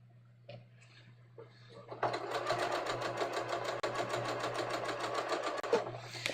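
Sewing machine running steadily as it hems cashmere blend trousers with a bias-cut silk facing, a rapid even stitching patter starting after a couple of seconds of quiet handling and continuing close and moderately loud to the end.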